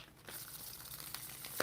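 Tarot cards are shuffled in a short burst of crisp, papery riffling and crinkling, ending in a sharper snap, close and fairly quiet with no talk.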